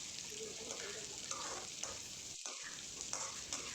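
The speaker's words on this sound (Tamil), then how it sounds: "இதுக்கப்புறம் வந்து நான் வெங்காயம் ஆட் பண்ணிக்கிறேன் இது கூட. இப்போ இது நல்லா வதங்கட்டும்." Onions sauté in hot oil in a pan while a Tamil home cook prepares eggplant curry; a quiet, continuous sizzle and crackle, briefly broken by a short stir.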